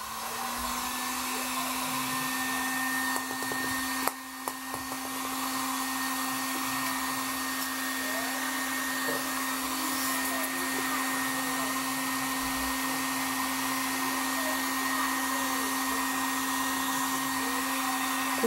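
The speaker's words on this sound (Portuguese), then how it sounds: "É o vapor bem quente, não deixa muito perto, senão ele muda a cor do EVA" A hot steam tool blows steadily at EVA foam, a continuous hissing whoosh with a constant hum underneath, loud and close for the whole stretch with no talk over it.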